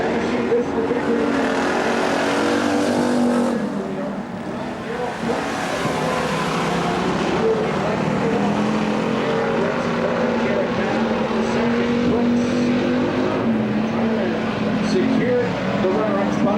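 Race cars roar off the start at Cottage Grove Speedway, one slowed by mechanical problems, their engines a loud continuous drone rising and falling while an announcer talks over the noise.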